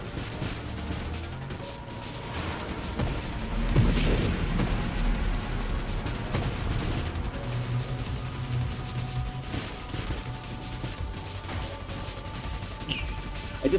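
Heavy, slow weapon shots from a ship in the video game Nova Drift with the Heavy Caliber upgrade, each a dull thumping blast over a continuous droning game soundtrack.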